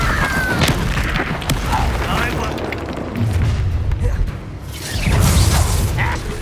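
A fire spell, Incendio, is cast in Hogwarts Legacy, bursting with booming whooshes amid a hectic fight, with loud blasts near the start and again near the end.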